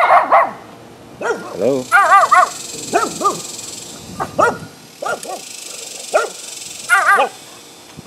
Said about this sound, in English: Got this little dog here. I think he wants to attack me.